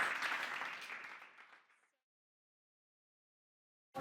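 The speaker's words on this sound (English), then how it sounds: "can I get a round of applause for Emma and Joan?" Conference audience at a YMCA showcase clapping, a close burst of applause that tapers off and fades to silence after about two seconds before a brief new sound at the very end.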